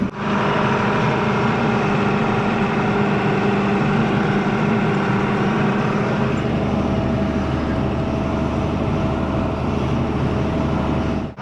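Farm tractor engine idling in a pasture near calves: a constant low, rumbling drone that stays loud and even throughout, with no talking.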